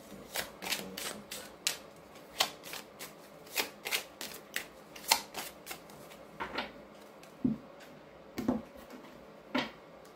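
Tarot cards are shuffled by hand for a reading, giving a steady series of crisp papery riffles and flicks, close and fairly loud, with a few softer thuds as the deck is squared, and no talking.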